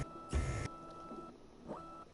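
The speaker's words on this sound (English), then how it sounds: "That noise is very futuristic for a cannon." A futuristic-sounding cannon fires once in Disney Infinity 3.0, a short, loud, bright burst of energy followed by fainter electronic tones.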